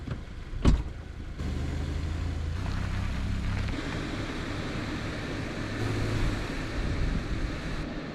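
A car engine idles and then runs steadily as the vehicle is turned around and positioned on rocks at a campsite in Sedona, Arizona. The low rumble holds for several seconds after a sharp click near the start.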